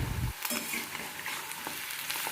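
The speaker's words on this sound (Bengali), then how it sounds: "এই যে দেখো এখন আলু ভাজছি, আলুটা ভেজে নিই" Potatoes fry in a pan, giving a soft continuous sizzle with a brief thump at the start and a few scattered crackles.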